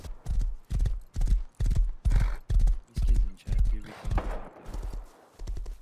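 Horses trotting in the survival video game Rust, a loud, steady run of heavy clip-clop hoofbeats in regular rhythm, close by, with a brief whinny mixed in and no talk over them.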